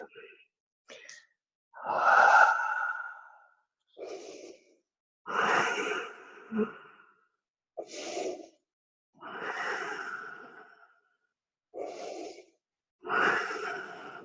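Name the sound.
yoga student breathing during inversion prep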